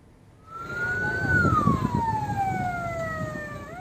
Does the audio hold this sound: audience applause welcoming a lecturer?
no